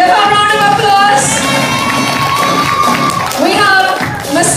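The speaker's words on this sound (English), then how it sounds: "Give her a round of applause." An audience at a children's Easter bonnet parade cheers and shouts loudly, with children's high voices rising above the crowd and faint clapping mixed in throughout.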